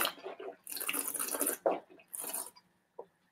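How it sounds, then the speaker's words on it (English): A person slurps and gurgles wine while drawing air over it in the mouth, giving a few close, bubbly hissing bursts separated by short pauses. "That's what you could hear me kind of slurping or gurgling."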